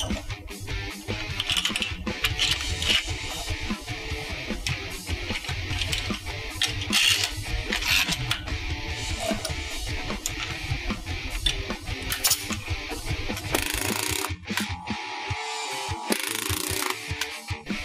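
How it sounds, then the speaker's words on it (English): Collated connector nailer being reloaded as strips are swapped from 38mm to 64mm nails, a run of close metallic clicks, rattles and snaps from handling the tool and nail strips, with no speech. "We can now easily change over from the 38mm nails to the 64."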